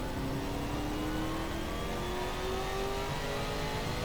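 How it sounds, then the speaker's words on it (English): A Ford Mustang race car engine in Assetto Corsa at Road Atlanta, revving steadily upward with a rising whine, continuous and moderately loud, with no talking over it. "this Mustang sounds wonderful."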